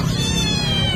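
A cat meows and caterwauls continuously at close range in a busy pet market, the sustained cries sitting over a steady bed of background crowd noise.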